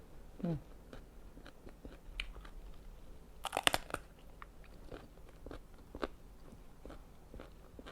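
Crunchy raw vegetables, served with spicy raw-beef koi salad and bitter gourd, are chewed close up in sharp irregular crunches with softer chewing between them and a little background talk.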